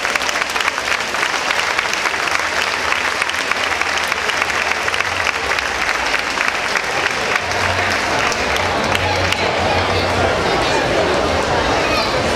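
Sustained, dense applause from a crowd at an awards ceremony honouring street decoration committees for a neighbourhood festival in Sants, steady and loud throughout with no pauses.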